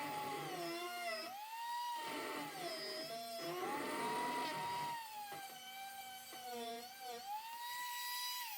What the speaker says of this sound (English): I'm going to try to Dremel that big boogery weld down a little bit